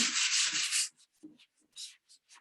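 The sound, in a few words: sanding block sanding a layout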